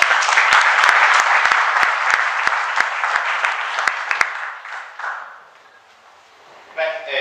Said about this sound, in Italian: Grazie anche per gli applausi, non me li merito tanti applausi